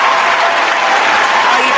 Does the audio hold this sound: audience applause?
yes